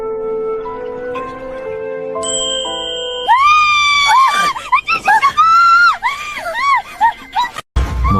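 A man screams in an anime scene, a loud, strained cry with wavering pitch that bursts in after a soft tonal chime, with other voices crowding around it.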